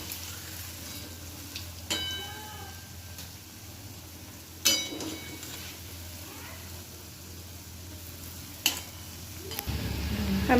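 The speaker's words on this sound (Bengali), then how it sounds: "খুব ভালো করে নেড়ে চেড়ে লাল করে ভেজে নেব" Palm fruit fritters (taler bora) fry in oil as a low, steady sizzle, broken by a few sharp clinks and scrapes of stirring. A faint voice is heard near the end.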